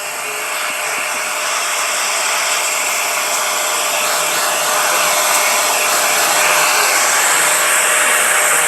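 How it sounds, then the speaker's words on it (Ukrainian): Italian GAZ-35 vacuum cleaner connected to an Einhell TC-DW 225 drywall sander, a steady loud high-pitched whine that runs unbroken throughout, close and alone without speech. "Під'єднали в пилососі ГАЗ-35, Італія, як ніяк. І включаємо."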